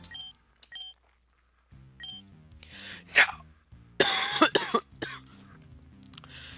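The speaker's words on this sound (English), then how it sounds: "I need to clear my throat." Someone clears their throat with a few harsh, raspy coughing bursts over faint electronic beeps and a low synth tone from a Pokemon video game.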